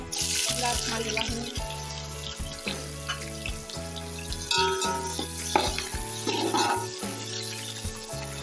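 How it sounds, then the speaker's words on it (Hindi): Onions sizzle in hot oil with whole spices for degi chicken pulao, a dense, continuous frying hiss. A low, rhythmic pulsing hum runs steadily underneath, and occasional stirring clatters sound close by. "और अब हम प्याज इसके अंदर ऐड करेंगे।"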